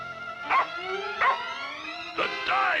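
Puppy barking and yipping on a 16mm film soundtrack, three short high yelps about a second apart over a steady tonal music bed, fairly close and clear.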